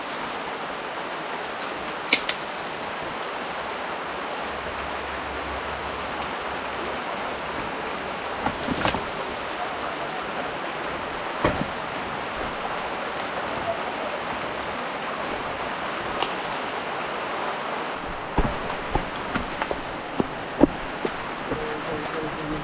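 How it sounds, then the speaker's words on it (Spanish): Heavy rain pours steadily in a countryside setting as a dense, continuous hiss with occasional sharper drops and knocks, and people talk faintly beneath it. "ya está lloviendo demasiado"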